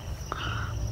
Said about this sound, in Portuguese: Meu Deus, chegou até os grilos.